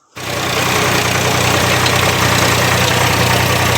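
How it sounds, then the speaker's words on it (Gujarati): A tractor pulling a rotavator through a field, its engine starting in abruptly and then holding a loud, steady, low chugging drone close by. "રોટાવેટર હાંકવાનું શરૂ કરી દીધું છે"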